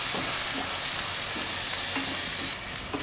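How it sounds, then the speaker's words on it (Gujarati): Grated tomatoes sizzling in hot oil in a pan while cooking a Gujarati drumstick curry, a continuous crackling fry with light stirring scrapes close by. "ટમેટા નાખીને થોડીક વાર આપણે આને પકાવી લેશું"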